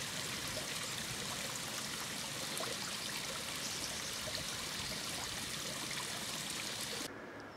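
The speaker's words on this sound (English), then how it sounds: "as we enter another woodland area and cross another babbling brook" A babbling brook in woodland on a Jersey coastal walk gives a steady, dense rush of flowing water, close and continuous, ending abruptly near the close.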